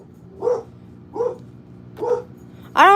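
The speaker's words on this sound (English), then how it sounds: "I don't think anybody wants to listen to you bark in my live." A dog barks repeatedly in a home during a live stream of craft-making, with three spaced barks followed by a louder, sharper burst at the end, fairly close and with no talk over it.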